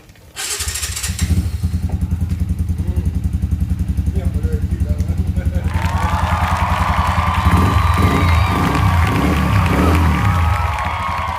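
A Yamaha WR155 motorcycle with a newly installed exhaust starts up close by. Its engine idles loudly and steadily throughout, then revs rise toward the end.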